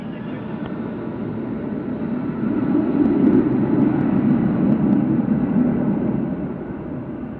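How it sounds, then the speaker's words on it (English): A UPS cargo plane takes off at Louisville airport, a loud, continuous jet roar swelling through the middle and then easing slightly, with no talk over it. "300 taking off there"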